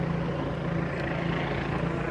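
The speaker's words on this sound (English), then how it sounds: "Helicopter's still in the air." A police helicopter hovers during a street clearing, sending a steady rotor drone across the whole stretch with no voices.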